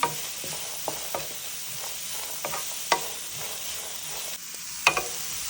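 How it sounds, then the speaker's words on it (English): Long beans sauteing in a hot pan for a stir fry with grated coconut, giving a steady close sizzle and hiss broken by sharp clicks and scrapes of stirring. "Now I'm going to add the long beans and saute it for a few seconds."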